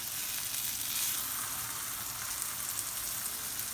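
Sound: hamburger patties frying in a pan

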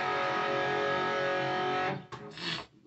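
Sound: electric guitar played with delay effect

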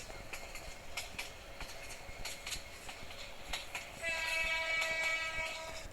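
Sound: train running at high speed in Train Simulator Bangladesh video game

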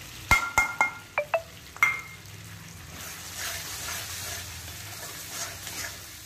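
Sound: onion paste frying in oil with ginger garlic

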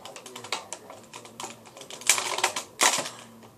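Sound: scissors cutting open toy packaging

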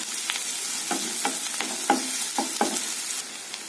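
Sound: onion and crushed garlic frying in a pan

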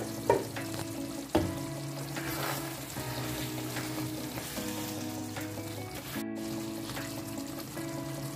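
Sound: chicken for biryani sizzling in a pan

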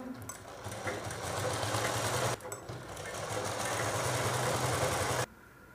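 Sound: sewing machine stitching breastfeeding bra fabric

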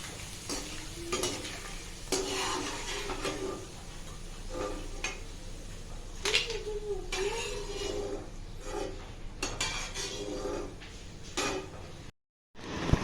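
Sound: potato wafers frying in oil

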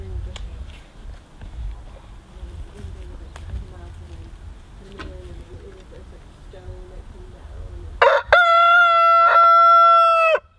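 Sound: rooster crowing in an orchard

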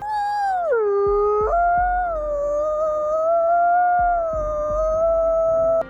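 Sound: wolves howling

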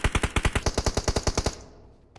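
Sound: gunfire in PUBG Mobile video game

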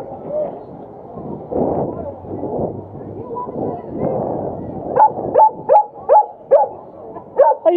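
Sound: dog barking at the beach

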